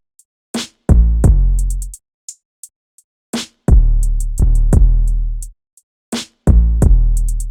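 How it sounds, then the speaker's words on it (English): In a hip hop beat built from a 70s soul sample, punchy kick drums land together with deep booming 808 bass notes in a steady repeating pattern, with short hi-hat ticks between hits and no talking. "the kick that was just going with the 808"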